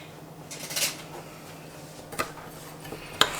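A spoon clinks and scrapes against a bowl while blueberry ricotta cake batter is mixed, with a few sharp taps over a quiet background and no voices.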